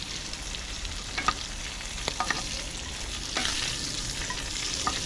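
Shrimp frying in a pot for a Jamaican shrimp and ackee dish: a steady, close sizzle runs throughout, broken by a few sharp clicks and scrapes from stirring. No one speaks.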